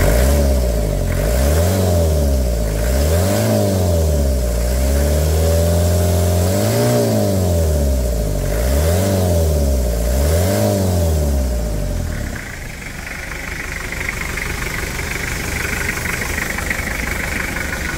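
Toyota Hilux SR5 2.8 diesel engine revving up and down in five or six loud, close, rhythmic swells, then dropping to a steady idle, with no talk.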